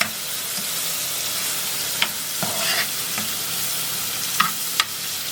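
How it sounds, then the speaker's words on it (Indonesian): Onions sautéing in a pan for creative Indomie noodles, a steady close hiss of frying with a few sharp clicks and scrapes of a spatula against the pan. "sebutannya ditumis karena dia bawang yang digoreng"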